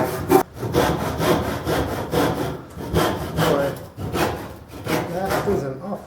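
A hand saw cuts through a wooden beam for a backyard swing set, steady rhythmic back-and-forth rasping strokes, close and fairly loud, about eight strokes with brief pauses between them.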